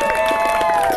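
Wedding guests clap and cheer right after the bride and groom kiss, a brief, loud burst of crowd applause with a sustained tone running through it.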